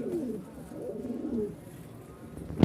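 Domestic pigeons cooing softly nearby, a few low rolling coos in sequence ending with a brief louder thump.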